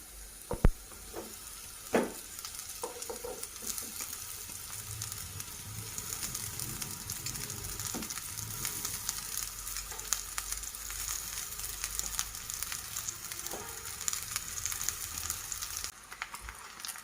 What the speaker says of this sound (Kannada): ಇವಾಗ ನಾನು ರೈಸ್ನ ಹಾಕೋತಾ ಇದ್ದೀನಿ